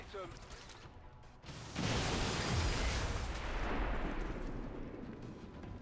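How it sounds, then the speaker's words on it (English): A large in-game explosion in XCOM 2 bursts out after a quiet moment, a deep booming roar that swells and rumbles on for several seconds before slowly fading, with speech faintly underneath. "That was one hell of an explosion"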